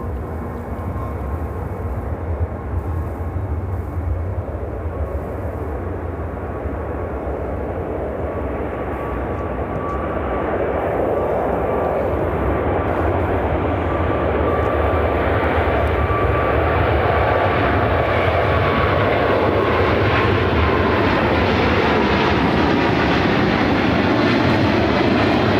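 A Cargo King cargo plane accelerates down runway 28 right at Chicago O'Hare, its engine roar swelling from a steady drone to a louder, fuller rush as it rolls, with no talk.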